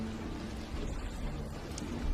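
Soft, steady rain falling on a farm roof, a faint continuous patter with an occasional brief louder drip.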